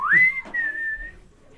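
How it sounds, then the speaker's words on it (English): One person whistles to get attention, a single rising then sustained tone lasting about a second, close and clear, with a brief lower breathy sound in between and no talk. "go ahead and whistle"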